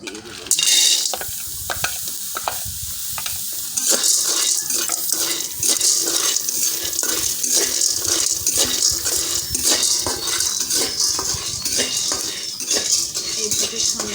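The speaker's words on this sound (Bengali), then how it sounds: "এখন আমি বুটটা দিয়ে দেবো।" Chickpeas fry with roasted rice in a pan, with steady sizzling under repeated scraping and rattling strokes of a stirring spoon, close and loud.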